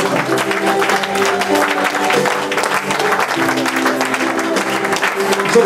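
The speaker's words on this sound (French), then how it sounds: "Est-ce que tu peux acclamer pour le Seigneur?" Church congregation cheering and clapping for the Lord, sustained loud applause with shouts from a large crowd filling the room, steady throughout.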